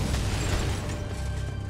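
A dense, rumbling blast fills the scene in the video game Resident Evil 4. The heavy roar holds steady throughout, with crackling debris over it.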